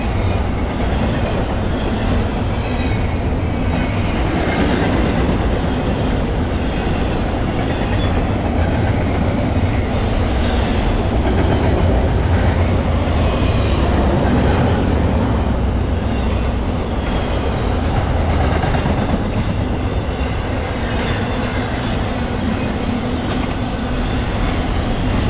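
A Norfolk Southern intermodal freight train passes close by in frosty woods at sunrise, giving a loud, continuous rumble and roar of wheels with faint clickety-clack and occasional high squeals throughout.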